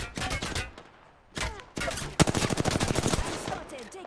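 Rapid automatic gunfire from the video game Apex Legends, a short burst, a pause, then a longer sustained loud volley of fast shots.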